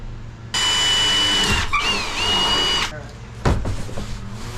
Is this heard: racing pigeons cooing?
no